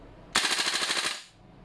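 An airsoft gun fires one rapid full-auto burst of about a dozen shots at close range. The sharp bright clatter lasts just under a second and then fades out.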